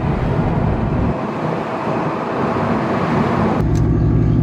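A Cobra or New Edge Ford Mustang engine whines steadily up close, a broad constant mechanical drone that drops and changes tone abruptly near the end.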